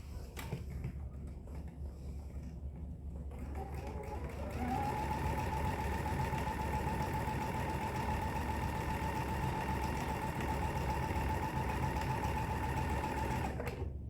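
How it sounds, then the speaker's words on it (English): A sewing machine runs steadily, stitching around the outside edge of two fabric squares for a tissue tote, starting up after a few seconds and then humming continuously at an even, close, fairly loud pace with no talking. "I'm just going to sew 1/8 of an inch all the way around the outside of my square."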